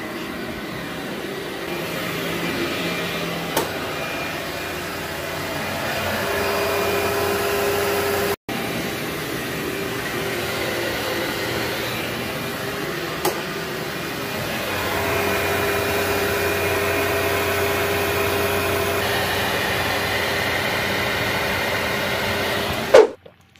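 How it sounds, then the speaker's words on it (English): A vacuum cleaner is pushed slowly over a heavily soiled, high-traffic stretch of carpet. Its steady motor drone is loud and continuous, with a slight change in tone midway and a few small clicks. "on heavily soil areas, guys, slow it down. Get more of that dry soil out."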